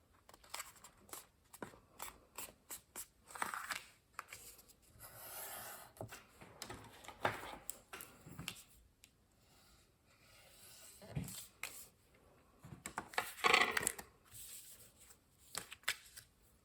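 Evening Evergreen card stock being folded in half into a card base, crisp paper rustles, creases and scraping strokes in an irregular series, close and fairly quiet.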